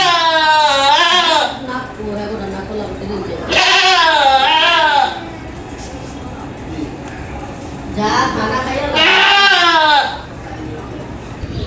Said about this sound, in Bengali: একটা খাসি নিয়ে আসলাম